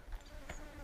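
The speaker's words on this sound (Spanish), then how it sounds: "Con las moscas aquí, macho." Flies buzzing close by outdoors near a river cave, a steady insect drone that swells briefly at the midpoint.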